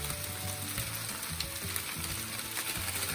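Yogurt with garlic and ginger sizzles in a no-oil pot as biryani masala is added, a constant close frying crackle with faint rhythmic stirring or scraping knocks underneath and no speech.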